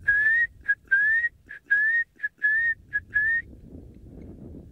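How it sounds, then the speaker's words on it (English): Guinea fowl giving its whistle-like call, a series of about eight clear, rising whistled notes in an uneven rhythm, loud and close, then fading into quiet outdoor background. "A call I like the most from the guinea fowls is when they're doing"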